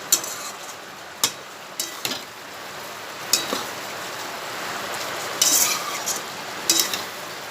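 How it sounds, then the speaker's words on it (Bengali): Garam masala and spices are stir-fried in a pan for a soybean curry, with a steady sizzle under repeated sharp clacks of a spoon against the pan. "একটু কষানো হোক মশলাটা,"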